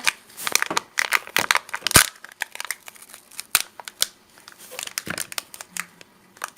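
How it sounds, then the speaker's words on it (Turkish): Crinkly plastic wrapper of a Kinder Joy surprise egg being torn open, with repeated sharp crumpling and crushing bursts in quick irregular succession, one loud snap near the middle, close up and without talk. "Şimdi bir tane daha Kinder Joy yumurtamızı açalım."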